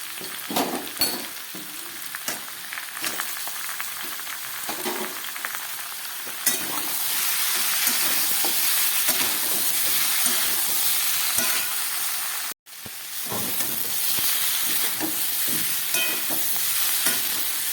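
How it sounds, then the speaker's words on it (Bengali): Jackfruit sautés with ginger paste in a pan for a vegetarian curry, giving a close, steady sizzle with scraping stirs that rises in volume partway through, broken by a brief silent gap. "আদা দিয়ে খুব ভালো করে কষিয়ে নিলাম।"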